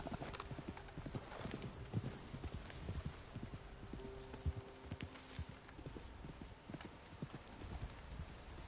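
Horse hooves clip-clop in the video game Red Dead Online, a continuous rhythmic trotting that runs throughout at moderate level with faint background game sounds.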